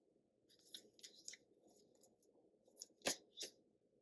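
Tarot cards being shuffled in a quiet room, a series of soft papery riffles and flicks with one sharper snap near the end, close and fairly faint.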